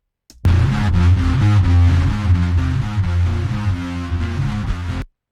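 A second set of distorted rhythm guitars from a song plays a heavy, low, chugging riff, loud and continuous from start to finish with no voices.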